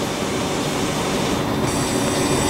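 A Seaford branch line passenger train pulls away, its broadband rumble and rolling rail noise steady and close throughout, with no voices.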